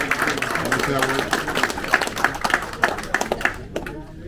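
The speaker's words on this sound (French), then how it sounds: "Est-ce qu'on peut acclamer pour elle?" Guests clap and cheer at a silver wedding anniversary celebration, scattered hand claps and voices building in a lively crowd before trailing off near the end.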